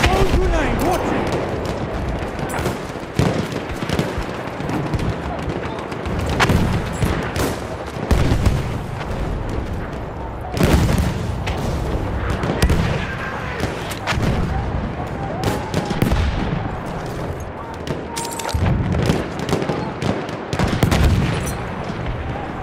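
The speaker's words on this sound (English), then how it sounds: "Throw grenade, watch it." Battlefield 1 combat at St. Quentin Scar with a British Empire squad: a grenade blast among sustained rifle and machine-gun fire and distant artillery booms, a dense, steady barrage of loud and far shots lasting the whole stretch.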